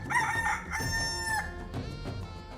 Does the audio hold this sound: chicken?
yes